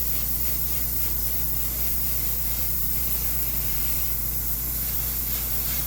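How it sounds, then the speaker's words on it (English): A constant, loud aerosol hiss of lighter fluid sprays onto a plastic part of a 1/72 Sinanju model kit, close to the mic and unbroken, with faint pulsing in the spray. "I'm going to spray the whole part because most of this is going to stay black."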